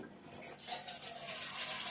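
Water is poured out of a container of sprouting plants, a steady, soft splashing stream that runs without a break and has no voices over it.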